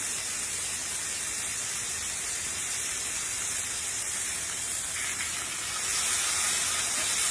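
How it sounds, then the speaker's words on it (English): A pork loin sears in a hot pan with a steady, close hiss like spray or steam, holding even throughout and brightening slightly near the end, with no talking. "Just a quick sear"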